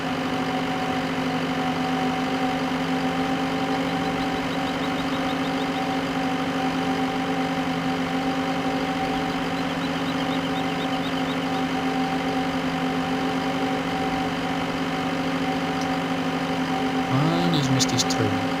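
Tractor engine from the Farming Simulator game running steadily in the background during baling work, a constant mid-pitched drone with a loud sustained hum that continues for the whole stretch, with a brief shift near the end.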